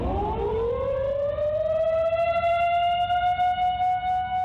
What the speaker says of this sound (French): C'est à ce moment-là que la sirène se déclenche.